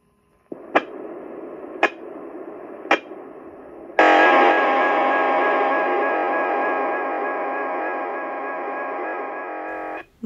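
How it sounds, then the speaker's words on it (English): Digital data played back from an audio cassette on a standard tape recorder: three sharp clicks, then a loud, steady buzzing tone that holds for about six seconds before cutting off abruptly. "Now you can hear how digital data sounds like on an audio cassette"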